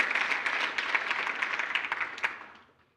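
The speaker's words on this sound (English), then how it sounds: "Let's give you a fitting round of applause." Hall audience applauding a professor called to the stage for a long-service award at a mathematics foundation function; moderately loud, even clapping with a few sharper claps, fading away over the last half second.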